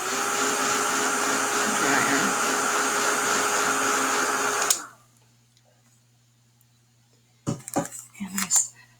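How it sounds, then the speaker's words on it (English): A blow dryer drying paint whirs steadily and loud for several seconds, then shuts off, followed by quiet and a few brief clatters. "I'm going to give this a shot with a dryer"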